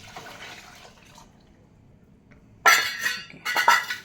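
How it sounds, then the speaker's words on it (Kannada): Strained water poured into a pot of sambar with mashed tomato, brinjal and dal, in two splashing bursts after a quiet stretch, near and fairly loud. "ಇವಾಗ ಈ ಸೋಸ್ಕೊಂಡಿದ್ದೆಲ್ಲ ಆ ನೀರು ಹಾಕ್ಕೊಂಡ್ಬಿಡೋಣ."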